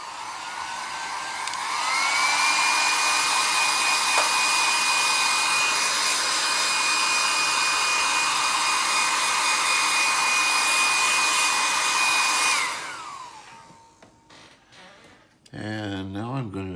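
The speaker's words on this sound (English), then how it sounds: "I'm going to hit this real quick with the blow dryer." A hair dryer blows hot air onto paint on a diorama brick wall, switching on with a rising whine, holding a loud steady roar for about ten seconds, then winding down before a short burst of handling noise.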